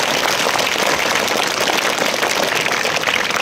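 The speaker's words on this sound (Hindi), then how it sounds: "तो अब आप शंकर जी सुन से तो एक बार पुनः ताली बजा के स्वागत करो।" An audience claps to welcome a speaker at a career talk event, a continuous, even roar of many hands clapping at once, loud and sustained with no talk over it.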